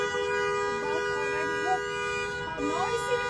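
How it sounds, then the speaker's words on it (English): A steady car horn tone blares continuously amid busy street noise at a bus stop, a blocked-in driver hooting, with a voice briefly talking underneath. "Somebody is hooting because it's his car is being blocked."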